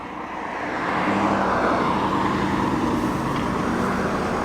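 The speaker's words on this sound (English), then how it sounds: "Another 3-litre V8 arriving." A classic Triumph's 3-litre V8 engine approaches and swells into a steady, loud rumble that holds on as the car draws near, with broadband road noise.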